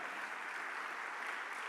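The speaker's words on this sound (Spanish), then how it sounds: "¿Cuánto le dan un aplauso al Señor esta mañana?" Congregation applause in a church service, an even wash of many hands clapping, moderately loud and steady for under two seconds.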